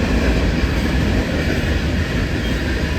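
A mixed freight train rolls past nearby with a loud, continuous rumble of railcars and wheel noise.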